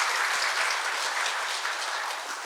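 Audience applause at a healthcare labor-management meeting, a dense burst of clapping from a seated crowd that holds steady for a couple of seconds.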